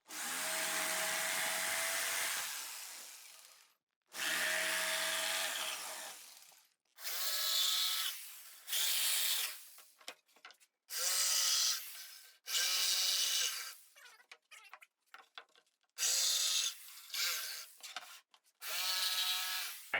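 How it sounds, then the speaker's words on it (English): A jigsaw cuts out four corners of wood for a DIY side table. It runs in loud bursts that start and stop, each lasting a second or two with short pauses between, and no one speaks. "now you're going to take your jigsaw and you're going to cut those 4 out"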